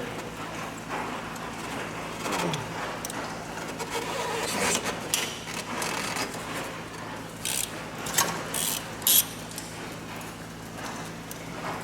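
A ratchet wrench works on a Duramax diesel engine during a head gasket teardown, loosening rocker shaft and head bolts. Close bursts of rapid clicking come and go over steady shop noise and clanks, with no talk.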